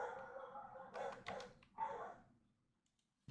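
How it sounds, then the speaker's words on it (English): A dog in the Minecraft All The Mods 10 modpack barks in a few short bursts, fairly near and moderately loud, then falls quiet near the end. "Dog barking."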